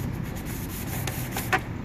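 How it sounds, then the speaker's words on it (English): A yellowed, foggy car headlight lens is dry sanded by hand with a steady, close, gritty rubbing that holds an even texture throughout, broken by one brief louder scrape near the end. "So right now we sand it up."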